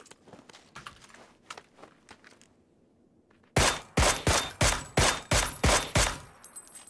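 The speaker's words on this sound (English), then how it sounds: "Other guy shooting." Gunfire rings out in the battle-royale game PUBG, with faint distant shots early on and then a loud, close burst of about a dozen evenly spaced rifle shots.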